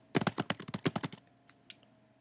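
Fingers tap out lyrics on a computer keyboard in a quick run of about a dozen crisp, close keystrokes lasting around a second. Two faint isolated clicks follow in a quiet room.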